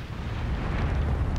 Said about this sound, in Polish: Rzucamy, tak, powinna być eksplozja.